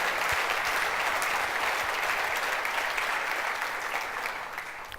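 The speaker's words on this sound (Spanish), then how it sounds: "Dale un aplauso al Señor ahí por eso." A church congregation breaks into dense, sustained applause, many hands clapping together in a loud, steady roar that holds for the whole stretch and only slightly eases at the end.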